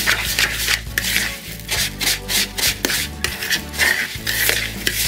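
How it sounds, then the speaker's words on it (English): Half a cup of breadcrumbs stirred through a fish burger mixture with spring onions, a steady rubbing, scraping sound in repeated strokes, close and fairly loud, with no talking. "I've got 1/2 cup of breadcrumbs, and I'm just going to stir those through"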